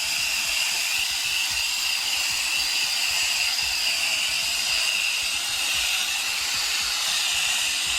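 A coil gun sprays cleaner onto an air conditioner coil, giving a loud, steady, continuous hiss of pressurized spray close by, unbroken for the whole stretch with no talk.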